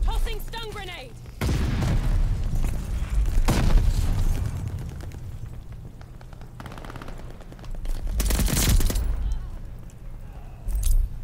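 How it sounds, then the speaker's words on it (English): Combat in Call of Duty Vanguard, with bursts of machine-gun fire and sharp blasts that likely include a stun grenade detonating, heard over steady gunfire and a loud crack near the end. "Tossing stun grenade"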